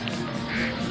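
A single short quack from a duck in a park, fairly close and clear over a low background hum.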